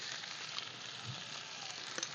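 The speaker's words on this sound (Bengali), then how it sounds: "নেড়ে নেড়ে ভেজে নেব হালকা করে।" Potatoes for aloo dum fry in a pan with a steady, soft sizzle throughout, without any talk.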